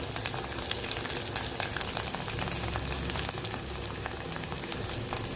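Rasam poured into a hot pan in a Krishna district style kitchen, a dense steady sizzle with crackling spatters running continuously and close, no voices.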